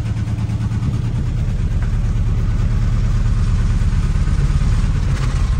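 A car engine runs steadily and loudly, close by, with a low rhythmic throb as the transmission is put into gear to test whether it will move.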